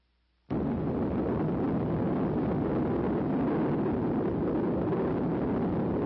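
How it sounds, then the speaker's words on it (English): A nuclear test detonation from Operation Sandstone in the tropics bursts in abruptly after a short silence, then holds as a loud, sustained broadband roar for several seconds with no voices. "all personnel are tensely awaiting the detonation"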